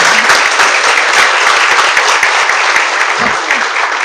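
An audience at a community talk applauds the keynote speaker, a dense, loud, sustained burst of clapping close by that eases slightly toward the end.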